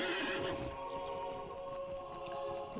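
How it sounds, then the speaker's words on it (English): A pony neighs in the Lord of the Rings Online video game, a game-audio whinny heard up close with faint hoof clip-clops over a steady tonal music and ambience bed. "We'll call up my horse, my pony I should say."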